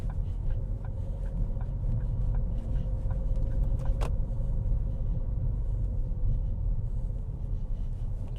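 Car driving along a road, a steady low engine and tyre rumble from inside the cabin with a faint indicator-like ticking and one brief click.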